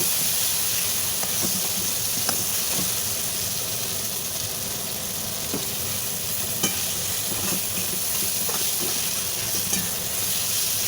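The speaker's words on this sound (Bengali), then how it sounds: "এই যে আমি আবার মশলাটা ভাজা ভাজা করছি।" Spice masala fries and is stirred in a pan for a singhi fish and potato curry, a loud, even, continuous sizzle with faint scraping ticks throughout and no speech.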